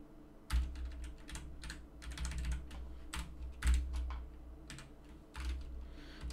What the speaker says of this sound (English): what is with my typing today?